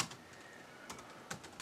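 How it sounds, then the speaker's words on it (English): Quiet typing on a computer keyboard: a handful of light, irregular keystrokes tapped out over faint room hiss. "let's type it all in lowercase"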